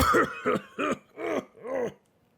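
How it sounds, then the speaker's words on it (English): Five rough, voiced coughs in a row, close and fairly loud, each a short burst with brief pauses between, followed by quiet. "This cough is gonna be the death of me."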